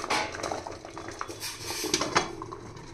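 A metal steamer pot clanks onto a stove among clattering pots and pans close by, with a few sharper knocks as cookware is set down and shifted, no voices.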